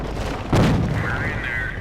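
A tank cannon fires once in Company of Heroes, a single heavy boom with a low rumble over steady battle noise and a whining engine tone.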